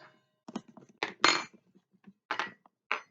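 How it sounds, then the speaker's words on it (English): A knife and other cutlery are set down on a dining table, a series of close, sharp metallic clinks and light taps separated by brief pauses. "on the right side, I put my knife"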